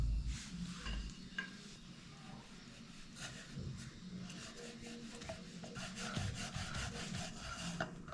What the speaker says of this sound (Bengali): এই যে একটা রুটি বেলে ফেললাম